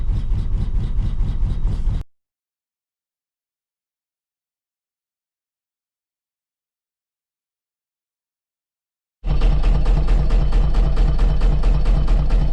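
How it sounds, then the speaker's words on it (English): A boat engine runs with a steady, rhythmic chugging, loud and close, in two stretches separated by a long silent gap. "Yeah, you can hear it running away. There's the engine."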